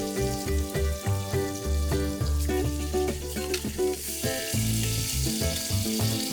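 A ketchup stir-fry sizzles and fries in a pan, a steady crackling hiss running under background music with a clear melody.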